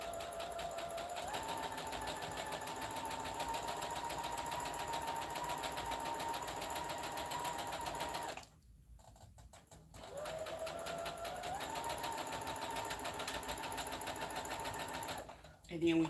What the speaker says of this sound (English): Make sure you always back stitch your work